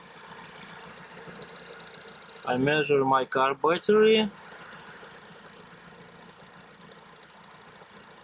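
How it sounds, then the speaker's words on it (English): A van engine idles steadily with a low, even rumble throughout, while someone speaks briefly over it partway through. "now engine is started"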